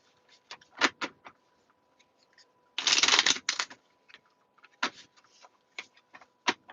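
Tarot cards being shuffled by hand in bursts of quick riffling and flicking, with a longer dense shuffle in the middle. Short taps and card slaps come between the bursts, close up and fairly quiet, with no talking.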